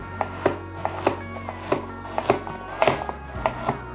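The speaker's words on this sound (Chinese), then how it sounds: "把红萝卜切片" A knife slices a peeled carrot into rounds on a cutting board, about a dozen crisp, close chops in an uneven but steady rhythm, with no talking.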